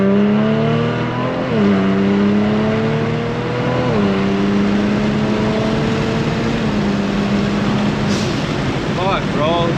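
A Kia Stinger accelerates hard, its loud engine tone climbing through several gear shifts from inside the car, with people talking over it.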